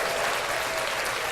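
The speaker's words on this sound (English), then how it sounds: "Clap that up." A short, dense burst of clapping, loud and steady, filling the moment alone without talk.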